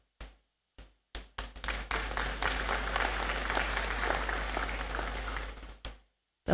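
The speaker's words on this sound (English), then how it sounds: "waiting for the applause" Audience applause at a university congregation ceremony in a great hall: a few scattered early claps build into dense, sustained clapping from a large crowd, then taper off abruptly.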